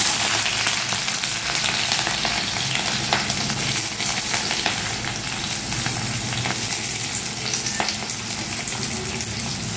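Onion dropped into hot oil sizzles and crackles steadily in a pan for the full stretch, a dense close frying hiss with scattered pops and no voices.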